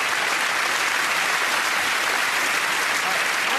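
Studio audience at a televised anniversary comedy quiz breaks into sustained, dense applause, steady and loud from start to finish, with no voices standing out above it.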